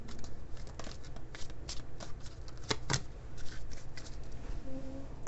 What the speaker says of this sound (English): I'm going to pull an extra oracle card here